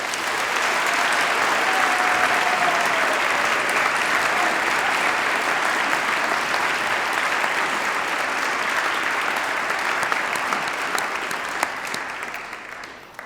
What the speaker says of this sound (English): can I ask you all to join me in a huge round of applause for all our speakers and our presenters